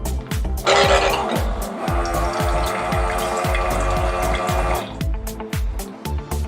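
A USB rechargeable water pump runs and pours water into a glass, a steady trickling flow with a low rhythmic pumping pulse underneath, close and continuous.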